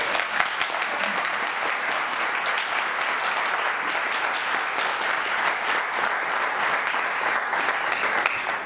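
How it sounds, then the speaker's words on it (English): A seated audience applauds graduates at a May commencement, steady dense clapping filling the room at an even level from start to finish, with no voices rising above it. "Let's give them a round of applause."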